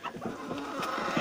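Hens in a henhouse with nests of eggs, a few close, soft clucks and short throaty calls in quick irregular bursts over about a second.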